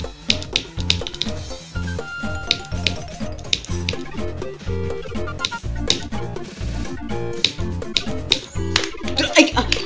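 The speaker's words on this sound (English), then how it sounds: "I am clicking and it's delayed, dude." Rapid mouse clicking during a Geometry Dash gauntlet level, sharp irregular clicks and taps over loud rhythmic game music, with a voice talking at times.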